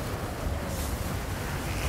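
Rushing water from a waterfall in a prison escape video game, a steady broadband roar that stays continuous and fairly close throughout with no talk over it.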